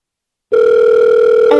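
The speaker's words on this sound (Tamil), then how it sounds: "சாரி, ஒரு நிமிஷம், எனக்கு ஃபோன் வருது." A telephone starts ringing abruptly after a short silence, a loud steady electronic tone that holds and shifts pitch near the end, with no talk over it.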